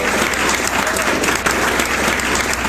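Dense, loud applause from an audience at a Hindi comic poetry gathering, a steady wash of many hands clapping without a break.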